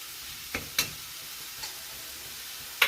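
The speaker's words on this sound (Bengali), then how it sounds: "মশলাটাকে আমি খুব ভালো করে কষাবো।" A few sharp scrapes and clinks of a spoon against a pan sound over a low sizzle as ginger-garlic paste and masala spices are stir-fried for a soybean curry. The strokes are sparse and irregular, and no one speaks.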